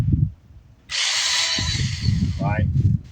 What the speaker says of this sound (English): So when the auger starts going down and I start drilling